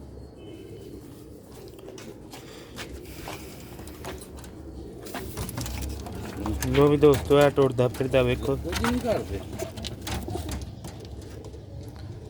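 Pairs of pigeons kept for sale coo and flutter nearby, with the cooing swelling into a loud rhythmic burst midway, all under someone talking.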